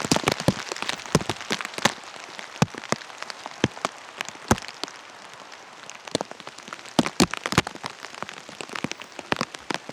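Steady rain pattering outdoors, with sharp drops tapping close by at an irregular rhythm over a constant soft hiss. There are no voices.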